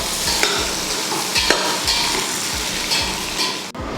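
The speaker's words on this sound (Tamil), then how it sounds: "இப்போ இதை வதக்கி விட்டுறலாம்." A quarter kilo of large onions and six green chillies sauté in a pan for mutton biryani, with a steady close sizzle and a spoon rhythmically scraping and stirring throughout.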